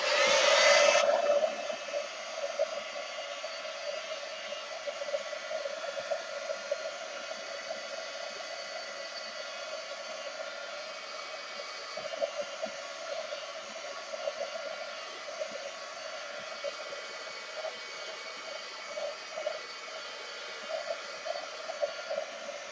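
Hair dryer blowing steadily over a freshly painted journal page. A sharp start gives way to a continuous, fairly loud whooshing hum with a steady pitched whine, running unbroken for over twenty seconds.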